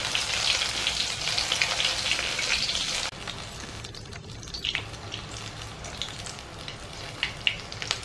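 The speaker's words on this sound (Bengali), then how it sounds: "এরকম আস্তে আস্তে ঘুরিয়ে ঘুরিয়ে ভাজতে হবে।" Snail skewer kebabs fry in a pan with a loud, bright sizzle that drops to a quieter crackle about halfway, with occasional sharp pops and taps as the skewers are turned; no one speaks.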